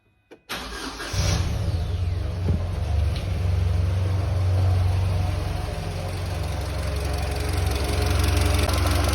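Engine noise from a SsangYong Kyron with a 2.3 petrol engine and a knocking drive belt tensioner, starting up and then running steadily close by, a continuous low hum with faint rattling and no talk.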